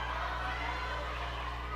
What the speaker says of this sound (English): The crowd going a little crazy for some of these wonderful big hits